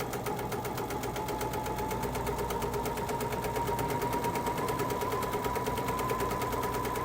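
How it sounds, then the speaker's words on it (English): A sewing machine runs steadily, stitching a quarter-inch seam around a fluted fabric bowl, a fast, even mechanical chatter with a constant motor hum, continuous and close. "So I'm just sewing around this."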